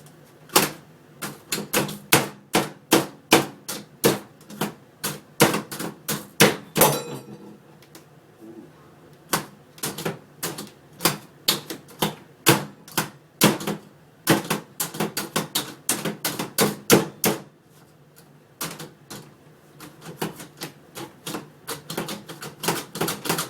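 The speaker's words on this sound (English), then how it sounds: "I didn't really need the onions to be this finely chopped, or sliced, but it's good enough." Knife chopping onions on a cutting board in a home kitchen, rapid dry rhythmic taps in quick bursts separated by short pauses, close and clear with no talk.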